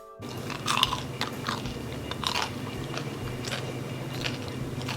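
Crisp crunching bites of air-fried tofu and chewing up close, with several sharp crackly snaps over a low steady background.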